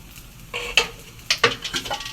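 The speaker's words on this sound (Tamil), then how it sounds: "இப்போ இதுக்கு தேவையான நெய் ஊற்றிக்கிறோம்." Ghee poured into a hot paniyaram pan sizzles in short bursts, mixed with sharp metallic clinks of a utensil against the pan, close and fairly loud, with no talk.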